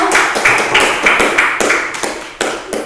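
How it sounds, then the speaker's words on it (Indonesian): An audience claps at a school gathering in a quick, rhythmic run of sharp, loud claps that stops and restarts briefly near the end. "Tepuk tangan semuanya."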